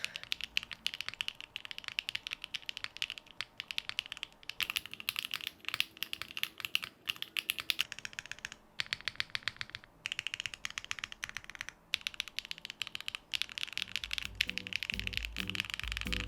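Rapid, continuous typing on a thocky-sounding mechanical keyboard, close and crisp, with uneven bursts of keystrokes and brief pauses and no talking.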